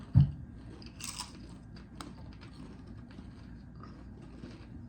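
Crunchy salt and vinegar potato chip bitten and chewed close up, one sharp crisp bite near the start followed by quieter intermittent crunches over steady low background noise.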